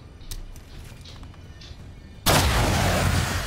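A sudden loud blast of XCOM 2 gunfire cuts in after a couple of quiet seconds, then sustains as a dense, noisy burst.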